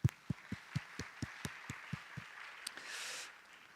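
A church congregation applauding during a worship service: evenly spaced, rhythmic claps, fairly faint, that end in a short, soft wash of scattered applause.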